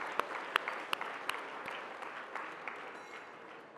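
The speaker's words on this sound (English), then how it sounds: "Another round of applause for our incredible musicians" Applause from diners at an awards dinner for the musicians who just performed, a steady wash of clapping with several sharp, close claps popping out early on, tapering slightly toward the end.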